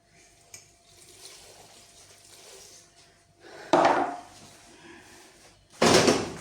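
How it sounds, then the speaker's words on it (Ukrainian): 300 ml of water is poured onto currants in a large pot for jam. Two loud, close splashing bursts of a few seconds each stand out over a quiet kitchen background. "вливаю 300 мл води"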